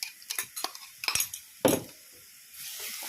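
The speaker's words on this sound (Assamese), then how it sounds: "এয়া লৰাই দিছোঁ অকণমান।" Ginger, garlic and onion paste stirred in a pan for duck curry, with a series of quick scraping and clinking spoon strokes followed by a brief soft sizzle, close and fairly quiet.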